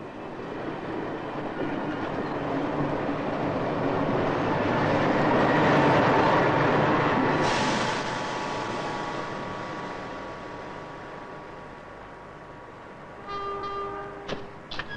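A train rumbles past steadily, swelling louder then fading, with a sharp horn blast sounding near the end.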